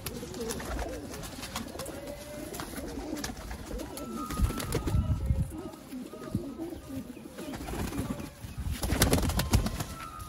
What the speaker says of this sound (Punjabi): ਕਬੂਤਰ ਆਈ ਜਾ ਰਹੇ ਨੇ ਨਾਦਰ ਭਾਈ